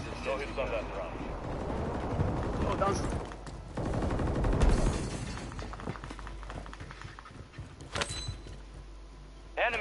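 An airstrike hits during a video game battle, with rumbling explosions under sustained machine-gun fire and sharp cracks, while game voices talk over the din.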